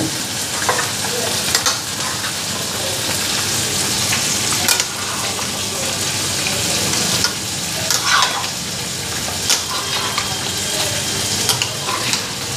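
Chicken stir-fried in a pan, a continuous close sizzle and frying hiss with frequent scraping stirs against the pan throughout.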